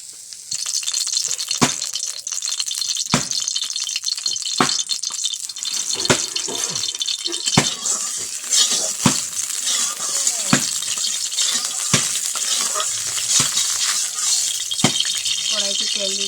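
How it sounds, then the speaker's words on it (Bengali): Food coated in a spice mix fries in hot oil in a wok, giving a continuous bright sizzle broken by sharp, regular clicks and clatters of stirring or placing pieces. "তো এতে তেলে ভেজে নেব।"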